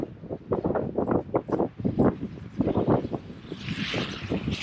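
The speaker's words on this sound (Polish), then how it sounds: "Ach, zobaczcie, jaki wiatr, jaka zadymka tam jest." Gusty wind buffeting the microphone in uneven bursts, rough and close, easing into a softer hissing rush at the end.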